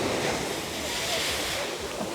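Sea waves washing and surging at Cleopatra Beach in Alanya, Turkey, heard up close as a steady broadband wash with wind noise on the microphone, no voices.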